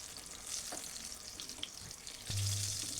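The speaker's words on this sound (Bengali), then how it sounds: "আমি সবগুলো বেগুন তেলে ভেজে" Eggplant slices frying in hot oil, a dense continuous sizzle with a few soft spatula taps, swelling louder near the end; no voices.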